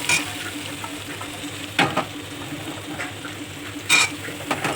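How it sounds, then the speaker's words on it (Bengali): Vegetable stems stir-fry in a hot pan with a continuous close sizzle, broken by a few sharp scraping strokes of a spatula against the metal. "এই জন্য ওগুলো আমি ভালো করে কষিয়ে নিলাম"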